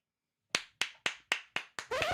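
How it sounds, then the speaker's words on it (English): Six sharp, evenly spaced hand claps ring out one after another in a quiet room, each with a short decaying tail, followed by a burst of other sound at the end. "Oh, it was supposed to be applause."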